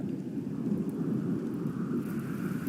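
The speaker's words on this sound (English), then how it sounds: "Especially a dry thunderstorm." A dry thunderstorm in the game Rimworld: a soft, steady rumbling wash of storm noise with distant thunder, fairly faint and unbroken over a few seconds.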